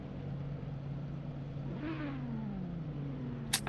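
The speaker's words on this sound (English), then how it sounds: "A few revs of the engine." A GT3 race car engine in a racing video game revving a few times, a faint mid-pitched rise and fall over a steady low drone, with no talk.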